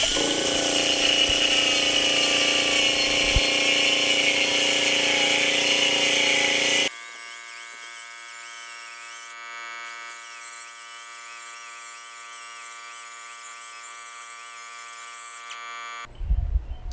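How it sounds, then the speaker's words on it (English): A cutoff wheel slices slots into a Kawasaki KLX300 motorcycle muffler, starting with a harsh, loud grinding screech that settles into a steady high whine before a final clatter. "Next I'm going to take my cutoff tool, cut the 4 slots."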